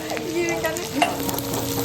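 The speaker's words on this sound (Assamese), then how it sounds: "এতিয়া পিঁয়াজ দিছোঁ" Onions sizzle loudly in a hot kadhai while a spoon stirs them, a close, steady frying hiss with small scraping strokes throughout, no voices.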